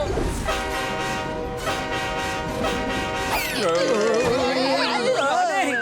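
Rumbling cartoon train with a rhythmic clatter, then a loud, wavering horn blasts close by and keeps sounding to the end.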